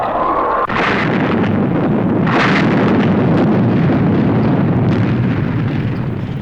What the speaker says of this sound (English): You've got to get that nose cone clear by firing the missiles.